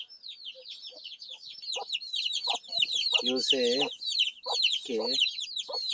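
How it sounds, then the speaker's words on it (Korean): Newly hatched chicks cheep noisily nearby in a dense, continuous chorus of high peeps, with someone speaking over them in short phrases. "병아리를 이렇게 깠는데 아주 시끄럽네요"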